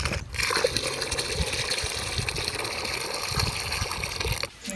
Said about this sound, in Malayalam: ഇനി കുറച്ചുകൂടെ വെള്ളം ഒഴിച്ച് കൊടുക്കുക